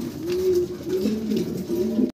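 Pigeons cooing up close, a run of soft low warbling coos repeating steadily before cutting off abruptly.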